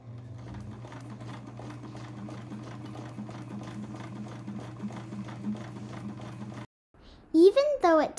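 A sewing machine stitches the hem of a miniature doll ballgown with a steady, rapid mechanical chatter at close range, then stops abruptly before a voice briefly speaks.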